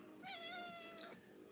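A kitten gives a single clear, drawn-out meow lasting about a second, close and fairly quiet, with a soft breathy tail at the end.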